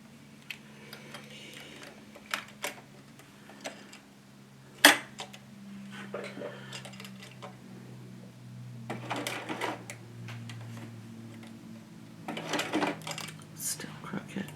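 A sewing machine stitches straight across a piece of fabric, giving a low steady motor hum in runs with scattered clicks and taps. Quiet voices talk softly over parts of it.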